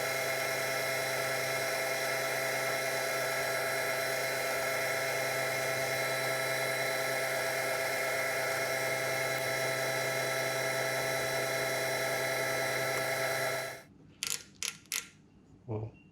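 Metal lathe turning down the end portion of a steel die holder for a 22mm thread, a steady loud whining hum for most of the clip that stops, followed by a few brief clicks and knocks.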